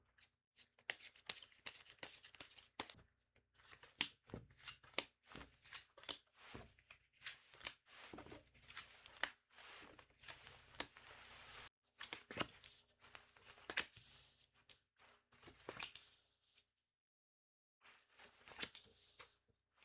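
Tarot cards are shuffled repeatedly close by, giving soft, quiet riffling and slapping bursts in an irregular rhythm with brief pauses.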